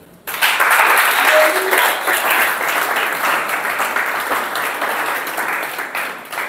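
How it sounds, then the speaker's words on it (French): A church congregation applauds in a loud, sustained burst of many hands clapping, which begins abruptly and slowly eases. "Acclame Jésus."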